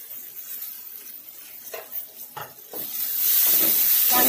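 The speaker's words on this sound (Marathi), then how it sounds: "एक दोन मिनिटात हा कांदा परतेल" Onion and curry leaves fry with turmeric in a pan, starting as a faint crackle with a few scraping stirs and swelling into a loud, steady hiss.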